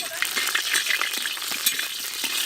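Whole cumin, bay leaves and dried chillies fry in hot oil, giving a dense, close, continuous crackling sizzle. Small pops and a few stirring scrapes break through it.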